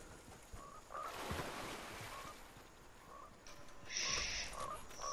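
Frogs croaking in the video game Fortnite, a few short croaks repeating over a steady washing background, faint, with a brighter chirping burst near the end, no speech.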